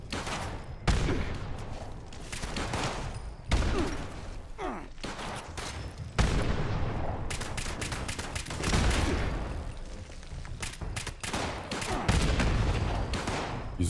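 Grenade explosions and bursts of gunfire in Fallout 76 on PC, several heavy booming blasts spaced across the stretch amid continuous rattling shots, loud and close.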